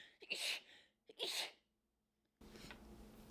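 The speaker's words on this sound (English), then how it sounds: "I'm gonna sneeze." Two sharp, loud human sneezes close up, one right after the other, followed by quiet room hiss.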